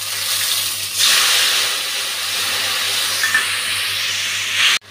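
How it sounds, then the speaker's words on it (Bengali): Spice paste hits hot oil for a prawn and potato ghonto, giving a loud, steady, close sizzling hiss that holds almost unbroken for about five seconds before stopping abruptly. "এখন গুলে রাখা মশলাটা দিয়ে দিচ্ছি।"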